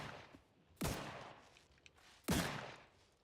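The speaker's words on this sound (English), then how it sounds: "Stop shooting." Two sharp gunshots from a firefight in the video game The Outer Worlds, spaced about a second and a half apart, each loud and close with a quick decaying tail over faint background noise.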